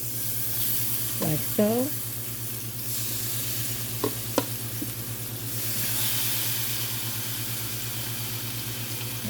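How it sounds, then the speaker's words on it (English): Seasoned chicken going into a hot skillet, a steady sizzle and hiss with a few clinks and bumps and a brief spoken remark early on. "we're just going to start putting it in our skillet"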